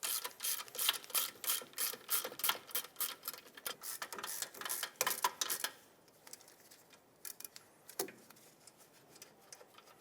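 Caliper bolts on a Jeep Compass rear brake are loosened with a ratchet, giving a close, fast run of clicking strokes that thins into a few scattered clicks and a knock near the end.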